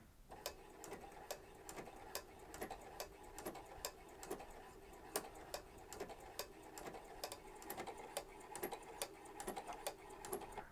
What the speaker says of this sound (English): then we're going to start sewing again